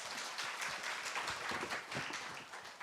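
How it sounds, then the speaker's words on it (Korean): An audience at an academic conference claps in dense, steady applause to welcome a speaker, heard fairly faintly with no voices over it. "박수로 환영해 주시기 바랍니다"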